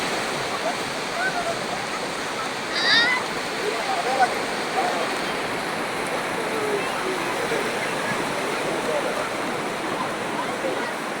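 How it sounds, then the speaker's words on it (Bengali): Sea waves at Kuakata beach wash in a continuous broad roar close by, with a brief rise in the surf and a faint voice calling out over the water. "ঢেউ ঢেউ"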